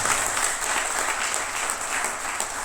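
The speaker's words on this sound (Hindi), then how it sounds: "मैं चाहूँगा इसके लिए जोरदार तालियां।" An audience at a success training event applauds, steady dense clapping that holds at an even level throughout, close and without voices.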